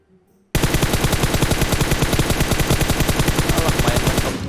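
Sustained automatic gunfire in a video game shooter, a loud rapid stream of shots starting abruptly after a brief quiet moment and continuing without pause to the end.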